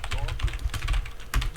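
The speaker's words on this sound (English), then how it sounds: "I was typing on the wrong keyboard again." Fast typing on a computer keyboard, a close run of uneven clicking keystrokes with people talking over it.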